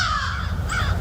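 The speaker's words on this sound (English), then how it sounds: "There's a crow." A crow caws twice, loud and close, each call harsh and slightly drawn out with a short gap between, against a low background hum and no voices.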